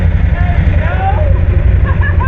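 A Can-Am Renegade XMR ATV engine running with a slipping, water-soaked drive belt, a steady low rumble with a wavering higher whine above it, close and fairly loud throughout.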